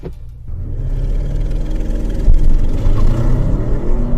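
A 2023 Audi RS7 in RS2 mode accelerates hard, a loud close engine rumble rising steadily with a surge midway and a continuous deep roar to the end.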